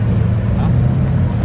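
A Bugatti Veyron Super Sport drives past at the Goodwood Festival of Speed, its engine a loud, steady, low roar that fills the whole moment.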